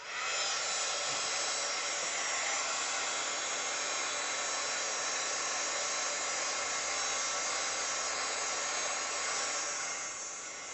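A heat tool melts embossing powder during scrapbook stamping, giving a loud, steady, close-up blowing roar that runs unbroken for about ten seconds before tapering off at the end.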